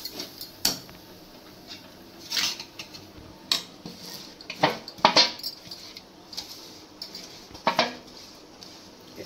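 Chhana is mixed by hand in a metal kadai, producing intermittent scraping and clinking metallic knocks scattered irregularly over a quiet kitchen background, fairly close but soft.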